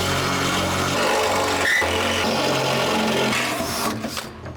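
A drill whirs steadily at close range, biting into metal with a grinding, buzzing tone before winding down at the end, drilling a fuel pump access door in a 1967 Barracuda.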